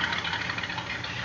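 A 1963 Chevrolet Impala SS with a rebuilt engine and mild cam idles quietly, a soft, steady rumble with a slightly uneven, loping pulse and no talking.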